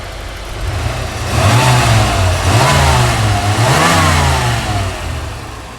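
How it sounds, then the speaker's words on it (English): A 1987 IROC car engine revs up several times in quick bursts, rising and falling in pitch over a steady, smooth idle, loud and close, heard in the engine bay. "Give it a couple of revs here."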